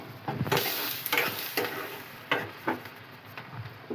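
Large mango pieces fry in hot tempering oil with a soft, steady sizzle, broken by repeated scraping stirs and light clacks of a spoon against the pan.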